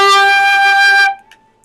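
A beginner's flute sounds a sustained G, a steady clear tone with bright overtones held for about a second before it cuts off, leaving near silence with only faint small noises.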